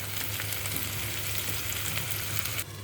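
Onions browned to light golden and freshly added tomatoes sizzle steadily in a pan for a parwal and chana dal sabzi, a continuous close frying hiss that drops slightly near the end.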